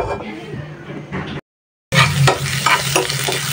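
Okra stir-fried in a pan produces a loud, close sizzle with rhythmic scraping strokes, cut by a brief silent gap, with a voice talking faintly underneath.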